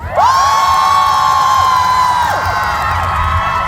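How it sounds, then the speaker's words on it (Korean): A festival concert crowd cheers and shouts loudly and steadily throughout, with high whoops and excited voices blending into one sustained roar. "사정없이 박수와 함성을 한번 보내주시면 되는데"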